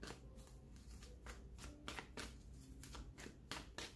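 An energy oracle card deck is shuffled by hand in repeated riffling bursts, the crisp card flutters steady and close with no voices.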